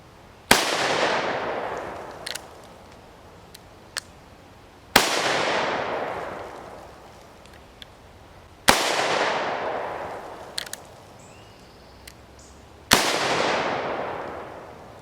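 Four loud gunshots from a Thunderstruck Gen 3 .22 Mag double-barrel revolver fired outdoors, evenly spaced about four seconds apart, each a sharp crack with a decaying echo, and faint clicks between shots.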